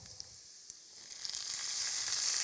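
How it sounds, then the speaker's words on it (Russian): Chili pepper and garlic hit hot oil in a pan, a soft crackling sizzle that swells into a steady bright hiss, with a few faint clicks and no voices. "Добавляю чили перчик, чесночок. Отлично, это я немного обжариваю."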